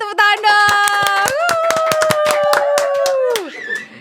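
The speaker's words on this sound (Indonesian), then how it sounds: "Tepuk tangan dong." Rapid hand clapping from a small group rattles along for about three seconds beneath a sustained voiced tone.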